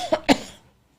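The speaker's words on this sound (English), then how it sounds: "That's funny because I'm going to start coughing." Two quick, close coughs in a row, short and dry, followed by quiet.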